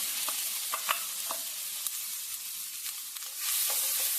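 Finely chopped onions sizzle and crackle in hot oil over medium flame, with a few sharp scraping stirs of a spoon against the pan, close and fairly loud.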